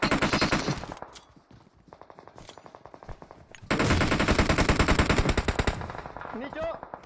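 Rapid machine gun fire in the mobile battle royale game PUBG Mobile, with dense bursts of shots near and loud, a short lull, then a longer sustained burst, while players talk over it.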